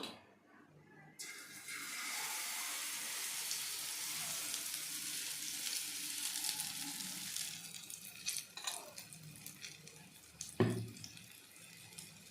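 Bun dosa batter cooking on a hot pan gives off a broad, steady hiss that gradually fades, followed by a few clatters and one sharp knock near the end.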